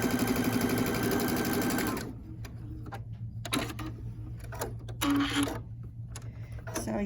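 A sewing machine stitches a quilt block seam, its fast even ticking whir running steadily for two seconds, then stopping and giving way to brief bursts of quieter handling noise and short restarts.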